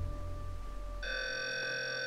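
A ghost-hunting pod device sounds an electronic ringing tone that starts abruptly and holds steady, fairly faint over a low background hum during a paranormal investigation.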